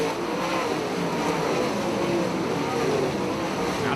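Late model race cars roar around the dirt oval at Brownstown Speedway during the Jackson 100, a steady, dense engine drone with crowd-like wash and no clear pauses.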